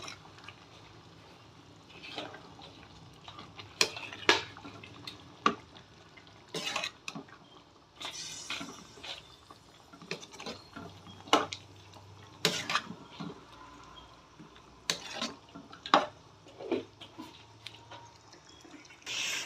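Chicken gravy simmering in a pot on low heat is stirred with a spoon, giving intermittent scraping and clinking strokes against the pot over a soft bubbling background, close and moderately loud, with pauses between strokes.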